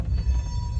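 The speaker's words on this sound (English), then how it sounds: "Holy cow, this train is frickin' long." A long freight train rolls past, making a steady low rumble and rattle of rail cars that holds close and continuous throughout.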